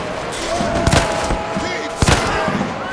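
Musket gunfire in Mount and Blade Warband: two sharp, loud shots about a second apart, each standing out from a dense, constant wash of battle noise.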